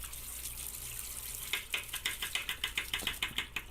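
Water splashing as a beetle is drowned in a small container or sink, a steady trickle under a low hum and then a quick regular series of about a dozen close, sharp splashing pulses.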